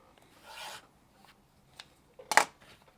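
Excess fabric trimmed off a quilt block, two short close scraping cuts, the second sharper and louder, with quiet handling noise between.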